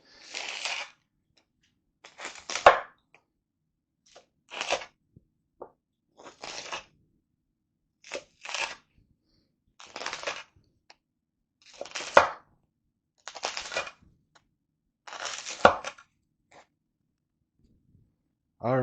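Garlic bread chicken alfredo pizza fresh from the oven being cut into pieces: about nine crisp crunching strokes, close and fairly loud, each a short burst spaced a couple of seconds apart with quiet between.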